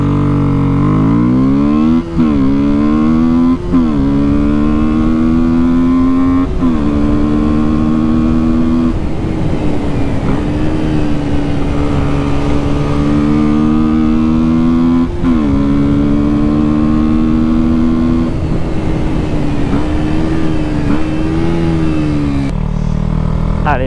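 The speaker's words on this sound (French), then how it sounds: "on va pouvoir voir un petit peu l'accélération de la moto" A 2019 KTM Duke 125 motorcycle pulling away from a standstill, its single-cylinder engine revving up through several gear changes with rising pitch and brief dips, loud and close with wind noise.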